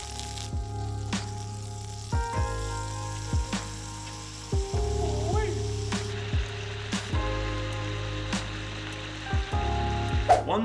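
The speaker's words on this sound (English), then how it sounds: "When you hear the sizzle, it's time to add the fish." Food sizzles with a steady, close crackle under a low hum, with occasional clicks and faint tonal sounds and no talking.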